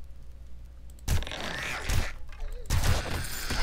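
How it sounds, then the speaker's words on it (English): Bursts of gunfire in the zombie video game 7 Days to Die, a round shot through a zombie into books, two loud close volleys separated by a short pause. "We shoot right through him into the books."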